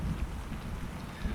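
Steady rain pours outside a bus as an audio-drama sound effect, a dense continuous hiss with a heavy low rumble throughout, alone with no voices.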